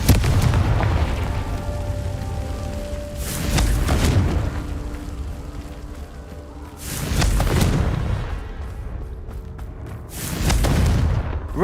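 Confringo fire-spell blasts in the video game Hogwarts Legacy, three deep booming explosions spaced a few seconds apart, each swelling and rumbling away, with no talking.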